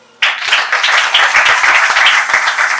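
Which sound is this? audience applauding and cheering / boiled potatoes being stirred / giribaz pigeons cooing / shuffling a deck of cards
audience applauding and cheering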